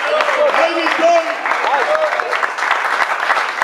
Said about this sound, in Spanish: Denle más fuerte ese aplauso